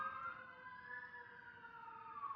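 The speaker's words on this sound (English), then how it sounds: "Sirens." Emergency sirens wail faintly in the distance, a sustained rising and falling tone that sweeps slowly up and back down with no talk over it.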